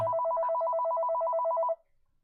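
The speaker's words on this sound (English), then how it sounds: "Oh, let's see who's on the phone." A telephone rings with a steady electronic warble, one continuous burst of about two seconds that cuts off abruptly, clear and alone.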